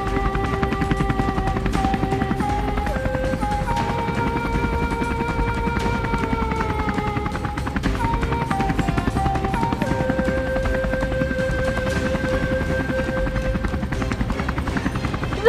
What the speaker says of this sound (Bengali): হঠাৎ করে হেলিকপ্টারের শব্দ?